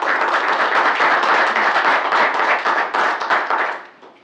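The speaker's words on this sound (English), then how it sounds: "Thank you for your round of applause." An audience at a Hanover Township, New Jersey committee meeting claps steadily in a dense round of applause that fades out near the end.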